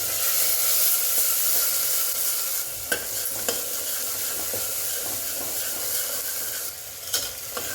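Chopped onion and tomato sizzle steadily in a hot pan while being sautéed for a black-eyed pea curry, a dense frying hiss broken by a few sharp stirring scrapes and clicks, close and with no voices.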